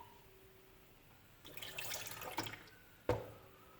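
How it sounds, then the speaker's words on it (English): About two ounces of water pour into a coffee maker for keto bulletproof coffee, a brief close splash lasting about a second, followed by a single sharp clunk. "And then pour our 2 ounces of water in here."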